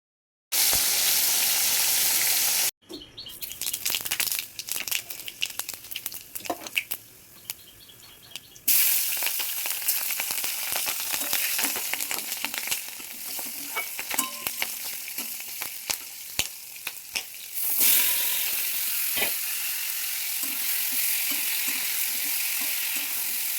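Fish frying in hot oil in a home kitchen, with black cumin and chilli then stirred into the same oil: a loud, steady sizzle and crackle with scraping stir strokes, and a short drop in level partway through.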